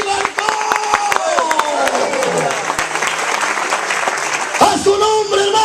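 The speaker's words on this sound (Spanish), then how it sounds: "El aplauso al Señor, alábelo con sus manos" Church congregation clapping in praise, a dense, lively burst of applause with a voice speaking and singing over it and some crowd noise throughout.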